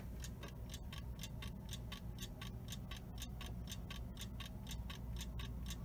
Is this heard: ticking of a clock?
yes